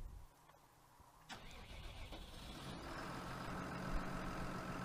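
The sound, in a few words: International tractor engine starting in Farming Simulator 2019 video game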